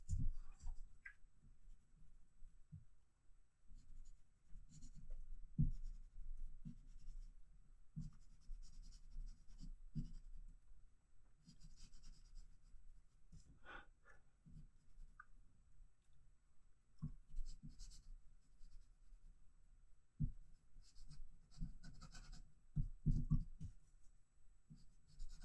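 Soft 6B pencil shading a toucan drawing on paper, a quiet continuous scratchy scrape with rhythmic back-and-forth strokes and occasional light taps, close but faint.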